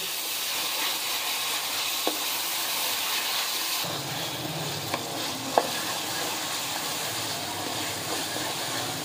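Tomatoes fry with garlic and ginger in a pan for beef aloo keema, giving a steady, loud sizzle that grows fuller partway through, with a few sharp spoon clicks from stirring.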